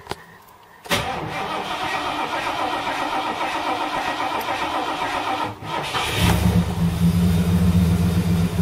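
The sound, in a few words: 1978 Ford LTD engine starting on LPG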